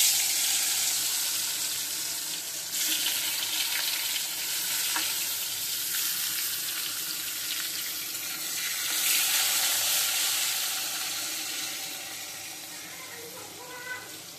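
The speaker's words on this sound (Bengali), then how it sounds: "কুমড়োটা আমি ভালো করে লাল লাল করে ভেজে নেব।" Pumpkin pieces frying in hot oil in a home kitchen, a continuous sizzle with occasional stirring and faint water sounds, while a voice speaks faintly in the background.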